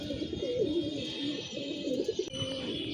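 Domestic pigeons coo in a soft, continuous, burbling murmur up close, several birds overlapping without pause and no voices.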